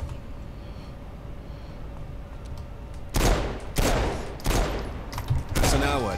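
Gunfire from the video game Saints Row IV breaks a quiet hum with about five loud, sharp bursts of fire spaced over the last few seconds.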